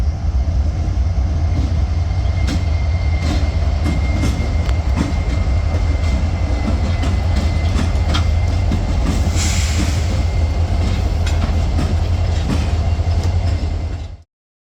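A CSX freight train rumbles past continuously and loudly with steady clattering of wheels on rails, a deep locomotive engine drone throughout, cutting off abruptly at the end.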